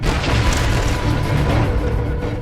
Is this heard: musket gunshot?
yes